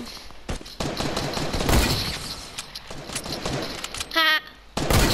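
Hunting rifle shots in the video game Fortnite crack out as sharp, loud reports, several spaced across the clip amid busy game noise and a brief voice.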